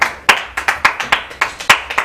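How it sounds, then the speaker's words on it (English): A few people clap at an improv comedy show, about a dozen sharp, uneven handclaps in a loose rhythm, close and crisp, with no voices over them. "Why are people clapping right now?"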